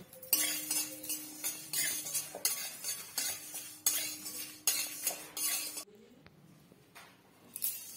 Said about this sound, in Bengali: এবার সবগুলোকে নেড়েচেড়ে একটু লাল লাল করে ভেজে নামিয়ে নেব